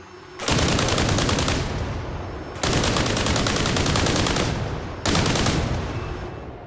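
A vehicle-mounted weapon in the Arma video game fires at a rapid rate in three long, loud, dense bursts separated by short pauses, with no voices.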